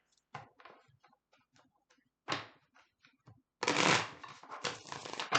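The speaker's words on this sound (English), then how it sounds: "I don't know why I can't shuffle today." Tarot cards riffle and flutter in short bursts, with a soft pause before a longer, louder shuffling run at close range.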